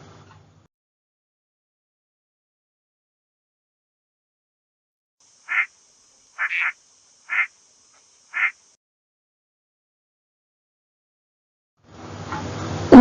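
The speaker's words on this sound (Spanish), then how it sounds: "Pato." A duck quacks four times in a row, short and clear against near silence, with evenly spaced calls in the middle of the stretch and a burst of noise at the very end.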